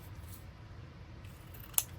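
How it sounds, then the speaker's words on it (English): A pair of scissors trims a scrap of paper for a handmade card, making a single faint, crisp snip near the end of an otherwise quiet moment. "And we'll trim that little extra off."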